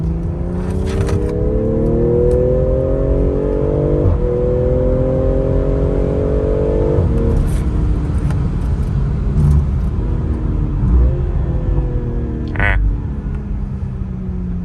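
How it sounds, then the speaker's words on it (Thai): A BMW M340i engine climbs in pitch through several rising sweeps, each broken by a brief gear change, loud and steady throughout. "เสียง เชนเกียร์แบบกระชากใจเหลือเกินะฮะ"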